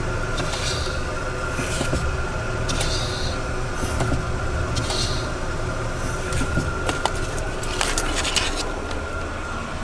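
Short bursts of hissing from a car brake booster rise and fade several times over a steady Suzuki Katana engine idle, close to the listener.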